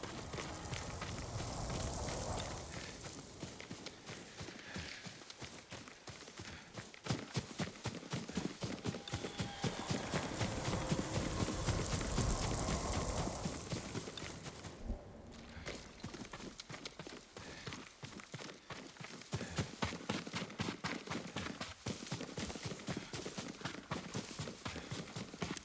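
Horse hooves clip-clop steadily through Ghost of Tsushima's game world as Yuriko's horse moves, with a dense run of hoofbeats that continues loud and close over ambient outdoor sound for the whole stretch.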